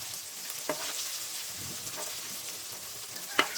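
Chicken pieces fry in hot oil over medium heat, a soft steady sizzle with a few sharp pops and spatters, no voices.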